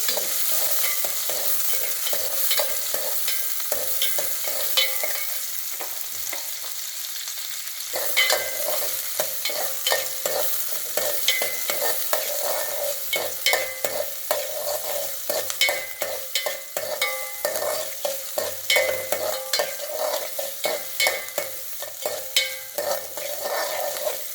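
Onions and green chillies sautéing in a pan, a loud close sizzle broken by repeated scraping and stirring strokes of a spoon against the pan, with a short quieter gap partway before the stirring resumes, no voices.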